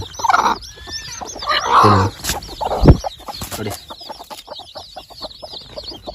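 Two hens cluck loudly up close while about sixty newly hatched chicks cheep in quick, high-pitched peeps throughout.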